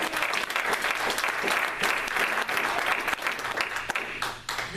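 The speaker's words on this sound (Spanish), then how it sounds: "Un aplauso al Señor." A church congregation applauds steadily during a sermon, a dense wash of clapping that holds for several seconds without talk.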